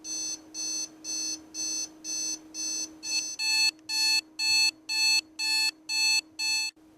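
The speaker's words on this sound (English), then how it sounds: "this piece is the buzzer for the alarm clock, and since the alarm is going off right now, you can actually hear it" An alarm clock buzzer goes off in a rapid string of evenly spaced electronic beeps, close and loud, growing somewhat stronger midway through and repeating about a dozen times against a steady low hum.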